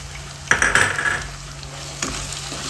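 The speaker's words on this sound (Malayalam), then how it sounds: "എല്ലാം കൂടെ നല്ലതുപോലെ വഴറ്റിയെടുക്കാം" Onion, potato, green chili and ginger-garlic paste sauté in a pan, with two sharp stirring scrapes of a spoon against the metal over a soft, low sizzle close by.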